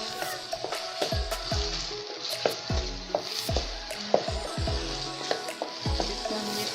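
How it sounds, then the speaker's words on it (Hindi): Small boneless chicken pieces fry in a pan for a chicken cheese paratha, giving a steady sizzle with repeated stirring scrapes and light knocks throughout, no talking. "अच्छी तरह से ये फ्राई हो रही है"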